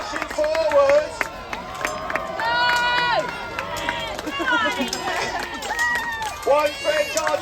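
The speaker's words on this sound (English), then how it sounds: "Big cheer for the English archers" Crowd cheering and clapping for English archers at a medieval battle reenactment, a steady outdoor roar of voices with scattered shouts and whistles rising and falling throughout.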